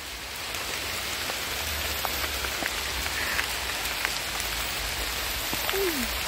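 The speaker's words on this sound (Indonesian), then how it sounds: "Hujan." Steady rain falls on a surface outdoors, a dense, even hiss of many drops that holds at the same loudness throughout, with no voices.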